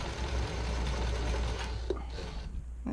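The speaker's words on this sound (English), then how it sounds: "I'm just going to do kind of a back stitch," A sewing machine runs a back stitch while sewing a test bra, its bobbin running low, giving a steady close mechanical whir with a few small clicks near the end and no talking.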